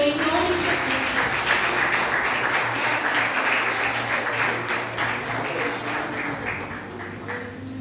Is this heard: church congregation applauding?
yes